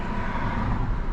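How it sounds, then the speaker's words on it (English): Steady rumble of road traffic with cars passing close by, a continuous broadband wash of engine and tire noise, no voices. "we're hearing some cars go by."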